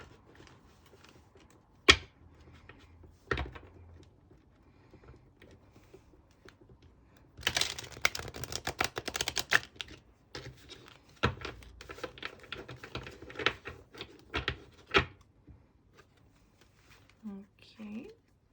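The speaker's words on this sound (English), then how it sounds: "I'm just gonna give this a few good shuffles." A tarot deck gets shuffled by hand: soft riffles and card flicks come in scattered bursts, with a dense flurry in the middle, all close and quiet.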